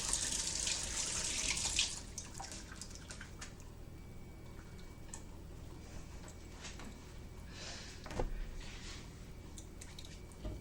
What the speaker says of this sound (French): je vais les rincer